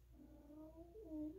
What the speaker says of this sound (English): My cat is meowing outside the door.